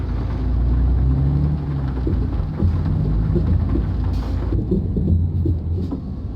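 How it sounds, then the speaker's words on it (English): Steady heavy rain with low rumbling thunder in the video game Euro Truck Simulator 2 rolling underneath, loud and continuous throughout, with no voices. "It's starting to rain harder, as a matter of fact."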